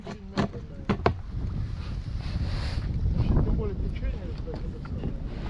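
Wind rumbles and buffets across the microphone outdoors on the Pechora River during an overnight fishing trip, a steady low roar with a few sharp knocks near the start.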